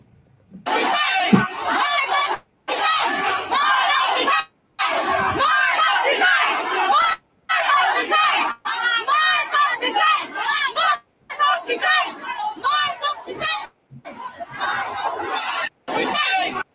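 A large crowd at a Philippine political gathering chants and shouts loudly in repeated bursts separated by brief pauses, with many voices together.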